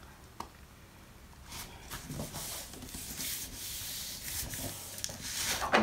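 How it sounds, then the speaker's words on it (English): Glued scrapbook page burnished by hand, a soft, close rubbing scrape that starts quietly and grows into steady strokes over several seconds. "Give that a good burnish."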